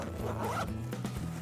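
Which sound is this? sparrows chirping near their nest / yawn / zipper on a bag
zipper on a bag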